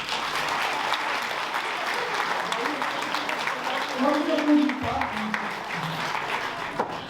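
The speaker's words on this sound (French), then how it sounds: "on va les applaudir" Audience applause for a mayor's elected team at a New Year's address, a steady moderate wash of many hands clapping throughout, swelling slightly near the middle.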